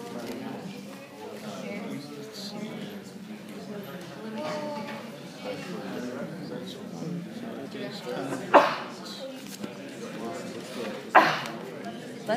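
A quick sneeze bursts out amid ongoing conversation in a room, followed by a second similar burst a few seconds later, both loud against the talk.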